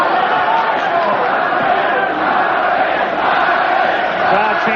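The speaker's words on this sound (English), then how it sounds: "Crowd chanting, Barry," A boxing arena crowd chanting Barry during a championship fight, a dense, loud, continuous roar of many voices.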